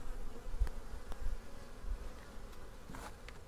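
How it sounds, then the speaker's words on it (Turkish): Honeybees buzz around opened hive frames in a steady, dense drone, close and continuous, with occasional louder passes of individual bees. "İşte hep arılarımızı bak bunlardan üretiyoruz."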